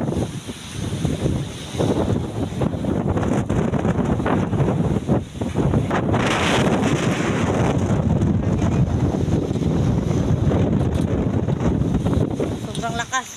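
Strong wind on an island roars steadily against the microphone, loud and gusty throughout, with water sounds underneath.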